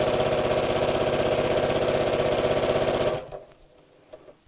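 A sewing machine runs a quarter-inch seam, its rapid, even needle clatter steady and close for about three seconds before stopping abruptly, followed by faint handling noises.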